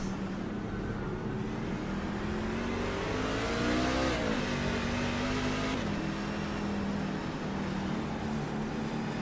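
Racing truck engines from a video game at COTA drone and rev together, a steady loud whine that climbs, dips around the midpoint and holds again, continuous and close with no voices.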